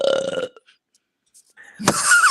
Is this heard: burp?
yes